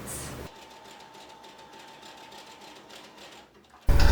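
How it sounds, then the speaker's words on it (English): Sewing machine stitching around a stretchy fabric waistband on a two-piece set, a steady mechanical whir running continuously at close range with no talking, ending in a sudden louder burst. "we're going to sew all the way around, leaving about 2 or 3 inches opening"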